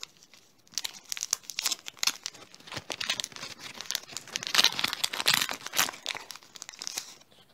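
Paper being unfolded and crinkled by hand, a run of crisp rustles and sharp crackles that come in irregular bursts, close and fairly loud, getting busier toward the middle, with no talking.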